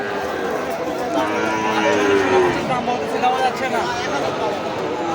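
A calf lows at a busy cattle market, a drawn-out nasal moo over a steady hubbub of crowd chatter and haggling voices.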